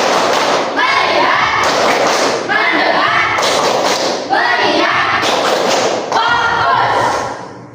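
Children stand in a classroom and clap a rhythmic focus clap in loud, steady bursts while chanting the words together.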